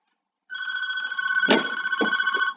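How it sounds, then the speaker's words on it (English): A telephone rings with an unusual multi-tone electronic ring, one steady ringing tone heard close and loud, with a few brief knocks and handling sounds partway through. "Phone got a different ring."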